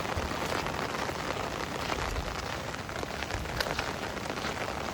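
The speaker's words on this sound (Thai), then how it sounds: "ฝนตกหนักอีหลี" Heavy rain pours steadily on a rural Thai home during a days-long monsoon storm, a dense, continuous hiss of drops drumming on surfaces, close and loud throughout with no voices.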